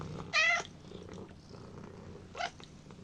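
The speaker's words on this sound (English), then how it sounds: "there's Tiger. He's my cat." A pet cat named Tiger purrs in a home, a soft steady rumble running low under the whole stretch, with a couple of brief brighter bursts of noise cutting in near the start and end.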